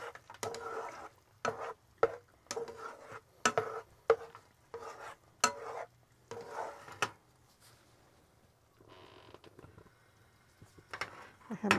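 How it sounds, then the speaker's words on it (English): Egg and chorizo are stirred in a pan over a gas flame. A spatula taps and scrapes in a quick, irregular rhythm, up close, then eases into a softer, steady sizzle before a few final scrapes. "what I'm going to do is mix this all up so that my egg and chorizo is well"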